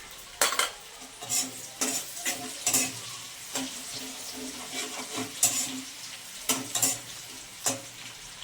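Chopped green chillies, ten to twelve of them, stir-fried in a pan for chilli chicken: a steady sizzle of frying broken by repeated sharp scrapes and clinks of a spatula against the pan, close and fairly loud, with no talking.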